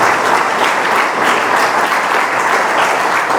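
A church congregation applauding during an evening service, a dense, steady wash of many hands clapping at full loudness throughout, with no voices standing out.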